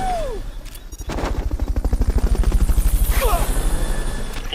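Fulton recovery helicopter in the video game Metal Gear Solid Peace Walker, its rotor thudding in a fast, loud, even pulse that builds and holds, with brief whooshing effects over it.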